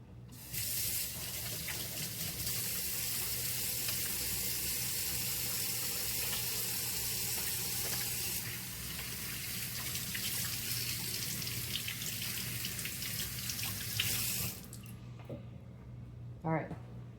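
Hands are washed under a running kitchen tap, a steady hissing water stream that carries on for about fourteen seconds before cutting off, close by, with a voice speaking over it.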